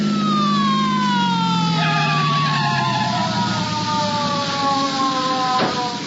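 A police siren in a radio drama wails loud and close, its pitch sweeping down and then rising again over an engine rumble, with no voices.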